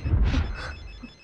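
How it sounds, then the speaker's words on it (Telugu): A telephone rings once in a dramatic film scene, a short, moderately loud burst of bell tone that quickly fades, with no talk over it. "రింగ్ అవుతుంది"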